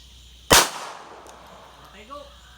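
A single sharp, loud gunshot from a real handgun goes off close by, followed by a quick decaying echo, and then a voice speaks briefly.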